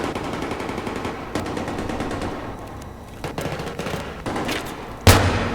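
Gunfire in the Battlefield 3 video game: sustained bursts of automatic weapon fire with scattered single shots and a sharp, loud blast near the end, with no talk over it.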